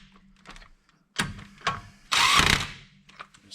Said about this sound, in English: You hear how I'm letting off as soon as the nut touches the wheel? I don't like to jam them on with an impact.